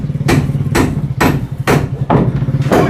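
A hammer strikes a wooden door frame six times in an even rhythm, each blow a loud, close, sharp thwack followed by a brief ringing decay.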